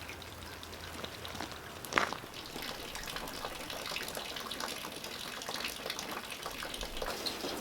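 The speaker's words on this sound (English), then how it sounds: "What I'm doing is I'm draining the tank on the sawmill" Fluid draining from the tank of a sawmill outdoors: a steady, fairly faint running and splashing of liquid that continues throughout, with one brief louder splash early on and no talking.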